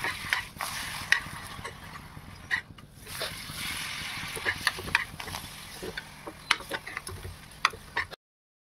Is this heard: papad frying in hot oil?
yes